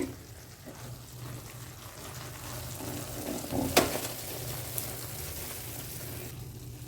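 Mysore pak mixture of gram flour, ghee or oil and sugar syrup bubbling and cooking in a pan, a steady soft sizzle with faint crackles and one brief sharp clink partway through, no talking.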